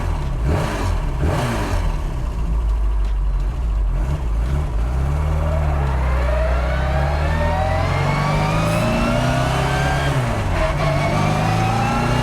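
A 1965 Mini Cooper S rally car engine revs loudly and close, rising through the gears with climbing pitch and a rough, continuous mechanical roar, no talking.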